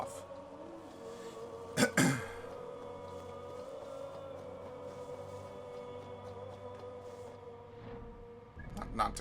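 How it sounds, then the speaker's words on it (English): A single throat clearing with a short cough, close and brief, over a steady background of game music in Assassin's Creed Valhalla. "I feel like I have to cough."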